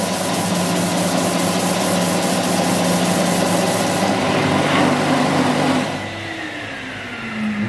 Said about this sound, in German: Und jetzt kann ich da im 90 Grad Winkel schleifen.